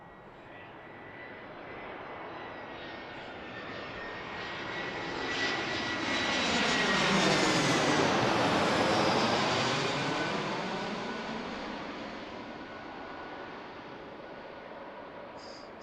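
A Legion airliner on approach to Pittsburgh International Airport swells from a distant engine drone to a loud roaring pass overhead, then slowly fades away.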